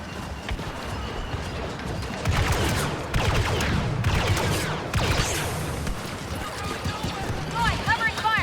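Rockets and blaster fire in the video game Star Wars Battlefront II, a dense run of loud bursts and impacts under near-constant speech.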